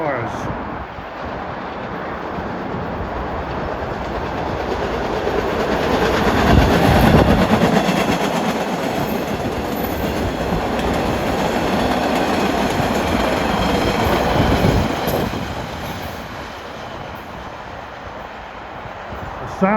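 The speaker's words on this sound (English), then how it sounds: "And we got a Braintree train with some of the older cars." An MBTA Red Line subway train bound for Braintree with older Pullman Standard cars rumbles past, the roar swelling to a peak mid-pass and then easing, with clattering wheels and faint squeal.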